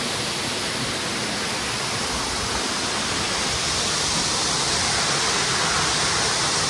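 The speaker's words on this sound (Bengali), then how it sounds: "জাস্ট পেছনে ঝর্ণাটা দেখো, অসাধারণ, অপূর্ব লাগছে।" Sitakund waterfall in Simlipal National Park pours steadily, a dense, even broadband rush of falling water, loud and unbroken from start to finish with no voices.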